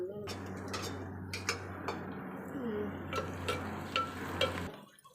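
Ginger garlic paste frying in a pan for a home-cooked Tamil dish, a soft sizzle under clinks and scrapes of a spoon against the pan, with a low steady hum throughout and quiet voices nearby.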